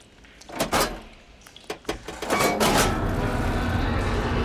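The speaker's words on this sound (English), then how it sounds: "Sounds like the water's switched" In the video game Horizon Forbidden West, machinery switches the water flow with a few sharp mechanical clunks and scrapes, then a loud, steady rushing wash of water that swells and keeps flowing to the end.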